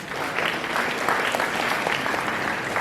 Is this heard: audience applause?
yes